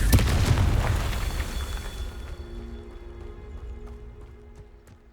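The Confringo fire spell exploding in Hogwarts Legacy, a loud booming burst that rumbles and slowly fades over several seconds, with a faint tone lingering at the end.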